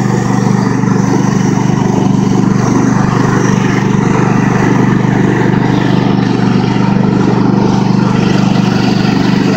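A Craftsman ProSeries garden tractor engine runs steadily at close range as the machine drives off, a constant loud droning hum with no talking over it.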